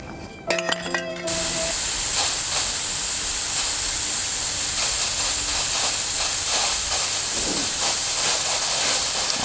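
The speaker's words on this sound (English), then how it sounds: "Now that we've filled our tank, we're going to go ahead and turn off the valve on our 20-pound tank" Propane hisses steadily as it refills a Fuel Keg from a 20-pound tank. A brief rattle of handling opens the clip, then a loud, continuous gas hiss carries on without a break to the end.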